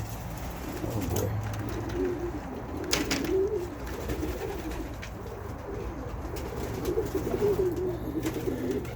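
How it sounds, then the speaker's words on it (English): Pigeons cooing steadily in a bird loft, several overlapping low rolling coos close by and continuous, with no talk. "Let me show you these birds."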